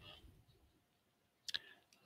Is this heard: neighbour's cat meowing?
no